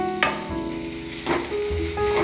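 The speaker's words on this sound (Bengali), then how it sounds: "একটু কালো জিরে ফোড়ন দিয়ে দিলাম, আর একটা শুকনো লঙ্কা ফোড়ন দিলাম" Nigella seeds and a dried red chilli sizzle sharply as they hit hot oil for tempering, a close, loud crackling hiss with a couple of sudden bursts and a stirring scrape.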